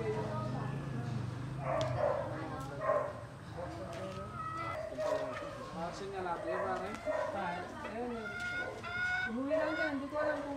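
Gilmore Hatch and Boston Sweater chicken pullets clucking in a backyard poultry pen, with steady, fairly close clucks running throughout under a voice speaking and a dog barking now and then.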